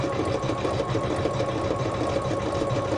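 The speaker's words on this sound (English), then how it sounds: "Press start again, and now it's going to go into my blanket stitch for that edge." Computerized embroidery sewing machine stitching a blanket stitch edge on a bedtime design, a steady loud mechanical hum with rapid needle pulses throughout, no talking.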